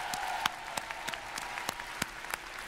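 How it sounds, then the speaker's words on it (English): Audience applause fills a convention hall at PlayStation Experience in Anaheim, a steady wash of clapping with sharper individual claps popping through, sustained throughout. "give yourselves a round of applause for joining us here in Anaheim"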